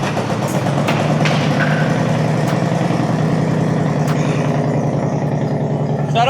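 A motorcycle engine idles steadily and loudly close by, a continuous low rumble with an even pulsing throb throughout, running while diagnostic data is collected.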